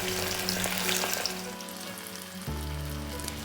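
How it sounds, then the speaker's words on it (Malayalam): Chicken pieces fry in coconut oil in a kadai with a steady, close, bubbling sizzle that carries on continuously, while a low hum runs underneath. "ഇനി അതിലേക്ക് നമുക്ക് ചിക്കൻ പീസ് ഓരോന്നായി ഇട്ട് കൊടുക്കാം."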